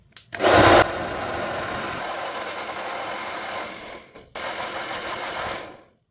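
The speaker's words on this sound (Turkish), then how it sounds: "Saç kurutma makinesini sıcak konuma alıp kolonya damlattığımız butonu kurutacağız." A hair dryer on its hot setting blows at a stove igniter button during a gas hob repair, starting after a short click, pausing briefly near the middle, then resuming at the same steady whirring pitch before cutting off.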